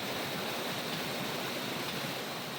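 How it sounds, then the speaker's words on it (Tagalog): A ram pump on a farm in Tabaco City, Albay, pushes water uphill, heard as a steady, dense rush of flowing water that stays loud and unbroken throughout, with no talking. "Nagpa-pump na yan yung tubig pa akyat dun"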